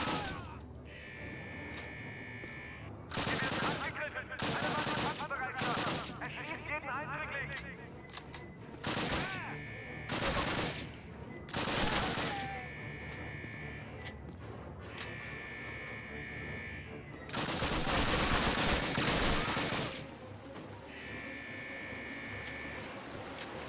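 Repeated bursts of gunfire and bullets hitting nearby come in clusters over a steady electronic whine in the game Call of Duty (2003), some shots loud and close, others quicker rattles.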